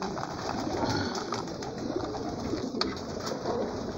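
Homing pigeons coo softly in a loft, a low murmuring chorus of overlapping calls running steadily throughout at moderate distance, with a brief sharper sound near the end.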